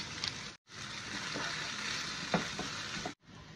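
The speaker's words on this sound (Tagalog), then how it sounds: "Simmer lang muna natin yung ating kamatis." Fresh tomatoes, tomato paste and tomato sauce bubbling in a pan for marinara, a steady close sizzle and soft popping broken by two brief silent cuts.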